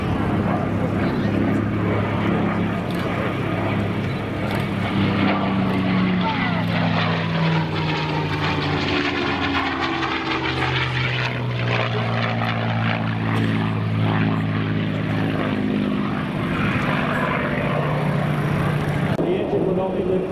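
A P-51 Mustang propeller fighter flies an aerobatic demo at a Dover AFB airshow, its loud, continuous engine roar rising and falling in pitch as the plane sweeps past and climbs away.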